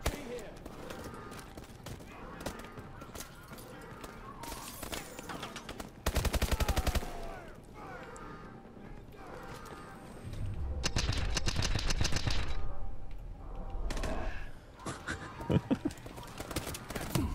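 Hip-fired gunfire in Call of Duty: Advanced Warfare's campaign, with rapid automatic bursts in several loud stretches, mixed with game effects and someone talking over the action.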